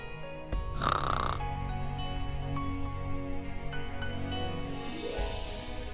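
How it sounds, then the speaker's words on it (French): Loud snoring from a sleeping person, with a couple of drawn-out, rasping breaths close up and heavy, steady sound between them, with no talk. "Tu ronfles."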